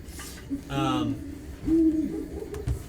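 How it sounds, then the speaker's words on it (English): Ambient owl hoots for a fantasy horror tabletop RPG set in Slaughter Pine, a few low hooting calls spaced apart over a quiet night backdrop. "you can hear the sounds of owls and dogs"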